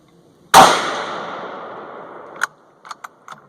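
A single loud 450 Bushmaster rifle shot, loaded with 40 grains of Hodgdon Lil'Gun behind a Hornady 200 gr FTX bullet, cracks sharply and rings out in a long decaying echo, followed by several faint clicks.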